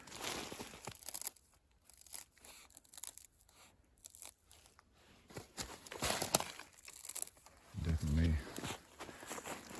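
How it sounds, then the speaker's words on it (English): Frozen snow and ice crunch underfoot outdoors during an April check of maple sap lines, a faint irregular series of crunches with a louder stretch near the end, in quiet surroundings. "You hear that crunching."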